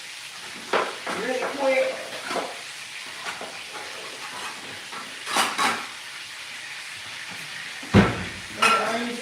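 Onions thrown into a hot pan alongside cube steak, a steady sizzle and hiss with a few sharper bursts as pieces land, under someone talking.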